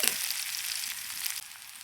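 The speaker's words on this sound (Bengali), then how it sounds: "পেঁয়াজটা কিন্তু খুব বেশি ভাজা যাবে না হালকা একটু ভেজে নিতে হবে" Chopped onion frying lightly in oil in a pan, a bright continuous sizzle close by, slightly quieter toward the end.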